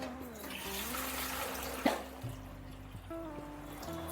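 Water is poured into a cooking pot in a home kitchen, a steady splashing stream running the whole time with a low background hum and no talk.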